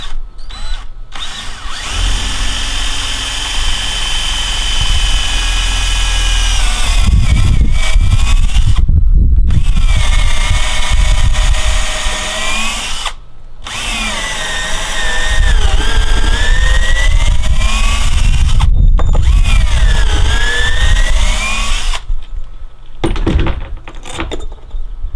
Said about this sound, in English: So I'm going to drill this one right here. And it's 3/8 pilot bit.